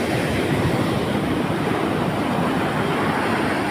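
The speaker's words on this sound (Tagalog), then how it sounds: "Napaka lakas ng alon." Strong ocean waves crash and roar in a dense, continuous wash of surf at close range in early morning, a loud unbroken rush with no voices.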